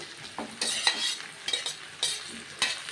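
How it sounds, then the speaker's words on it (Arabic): Shish tawook chicken and colored peppers stirred in a single frying pan, a spoon scraping in short repeated strokes over a steady, close sizzle. "هقلب بقى كله كده مع بعضه."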